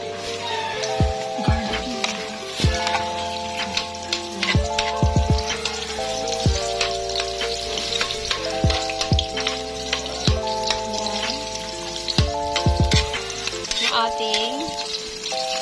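Onion browning in a pan sizzles steadily up close while music with sustained tones and plucked notes plays over it throughout.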